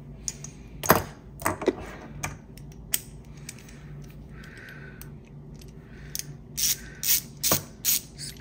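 Bolts being loosened on a Dura-Ace hydraulic front disc brake on a Cervelo P-series bike, giving scattered ratcheting clicks and metallic ticks, some sharp and close, with quieter gaps and a denser run of clicks near the end.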